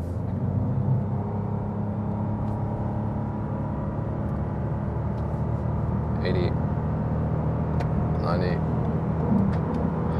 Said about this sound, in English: Then let's go in the driving mode to the power mode and accelerate it out.